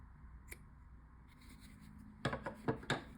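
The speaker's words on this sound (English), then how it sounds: "I'm not going to get the stitching, but just clip right up to the stitching" Scissors snip through a fabric seam up to the stitching at the fold of a small doll-sized tote bag, a quick run of four or five close, crisp cuts after a brief rustle, alone and fairly quiet.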